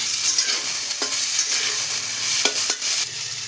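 Ginger, garlic and onion fry in hot oil with a steady, close, full sizzle, broken by a few brief stirring scrapes near the start and end.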